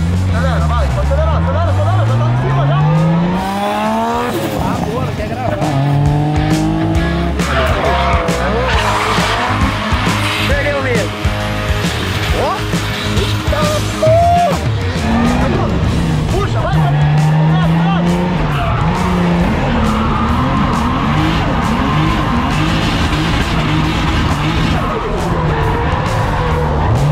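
A Coronado car drifting, engine revving hard and accelerating with long squealing tire skids, sweeping pitch changes across the whole stretch, loud and close, with excited voices talking over it.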